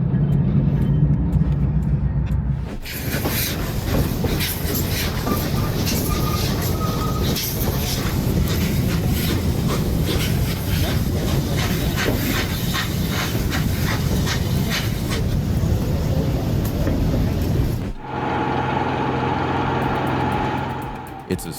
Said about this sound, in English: The snowplow train looks like it's waving its two whiskers as it clears the snow.